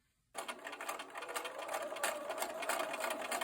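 After a brief silence, a sewing machine fitted with a quarter-inch foot starts up and runs steadily stitching fabric, its rapid needle chatter fairly quiet and close.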